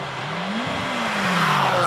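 Chevron B20 Works F3 race car at a classic car hillclimb, engine note rising and sweeping in pitch as it accelerates away, loud and fairly close, with a brief tire squeal.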